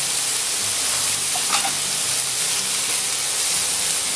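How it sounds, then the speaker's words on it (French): Fresh chanterelle mushrooms and shallots sautéing in a hot pan, a loud, close, continuous hissing sizzle with a few brief crackles, steady throughout and free of talk. "On va bien les faire sauter. Assez rapidement, j'y rajoute les échalotes."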